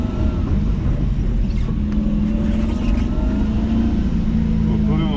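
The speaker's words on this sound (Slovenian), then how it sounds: "ko se grejemo avto." A Lexus drift car idles and warms up with a steady, loud low engine rumble running throughout, with talk over it.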